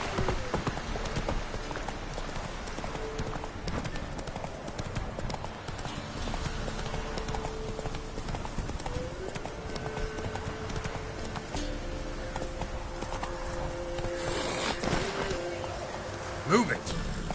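Roach the horse trotting and galloping in The Witcher 3, steady clip-clop hoofbeats on the ground running under game dialogue, with ambient tones, a snort near the end and people talking over it.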